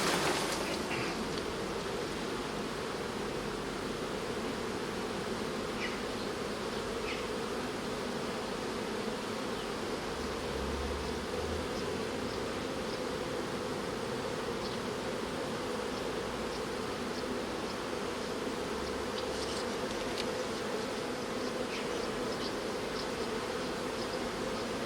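Honey bees churn in a nuc box after being shaken, a dense, steady buzzing swarm close by that holds an even level throughout, with no voices.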